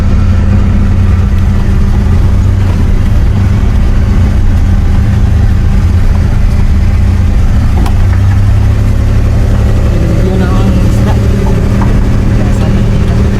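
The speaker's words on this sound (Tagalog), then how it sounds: "medyo kuha lang to, rough road. Pero kaya lang to ng multicab namin." A multicab rumbles over a rough farm road, its mid-pitched engine droning steadily with bumps and rattles, loud and close from inside the vehicle, with no talk heard.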